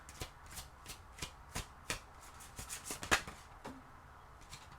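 Oracle cards are shuffled close up in quick, soft riffling bursts with a steady papery rhythm, quiet and alone without any voice.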